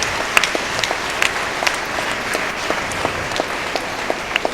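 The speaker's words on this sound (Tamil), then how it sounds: "கைத்தட்டுங்க அவங்களுக்கெல்லாம், வெரி குட்." A hall of schoolchildren claps together to cheer classmates, a dense, sustained round of applause with sharper individual claps standing out, and no speech over it.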